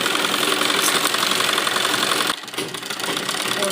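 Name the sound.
sewing machine stitching suit with lining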